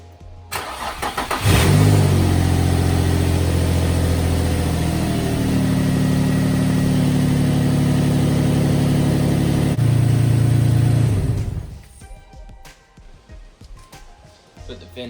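An Infiniti G35 engine with newly installed coil packs cranks briefly, catches, revs up and settles into a loud steady idle close by, then shuts off near the end.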